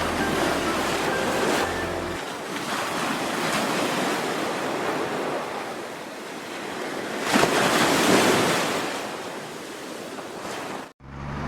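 Strong sea wind and crashing surf roar steadily at Konark beach on the Odisha coast, a loud, continuous wash of waves and gusts with no voices.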